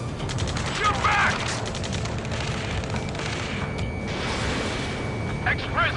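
Battlefield gunfire crackles in Ace Combat 7 as shots and bursts pile up amid distant booms and mechanical clatter, with urgent radio voices talking over the fighting.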